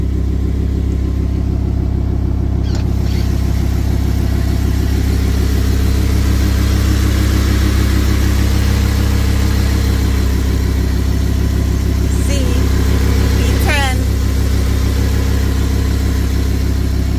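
A 2023 Audi R8 engine runs steadily, a loud, close, continuous low rumble at idle with faint mechanical whirring on top and no talking.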